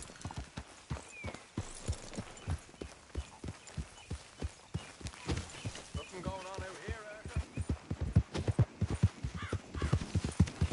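In Red Dead Redemption 2, rhythmic horse hoofbeats clip-clop steadily, picking up pace toward the end, with a brief horse whinny midway and occasional talk over the top.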